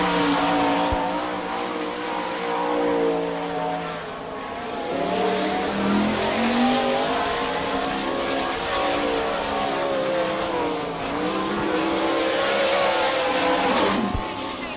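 Sprint race car number 6 at a dirt speedway lapping the track during time trials, engine roaring steadily and loud throughout, pitch rising and falling as it circles, with brief fades on the far side.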